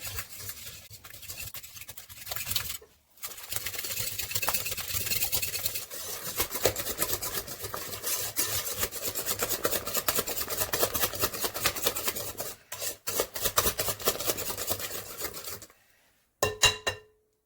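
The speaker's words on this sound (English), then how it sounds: "And whisk the egg in." An egg is whisked into a bowl of creamy batter, a fast, steady scraping and clicking of the whisk against the bowl that stops briefly twice and ends with a few final taps.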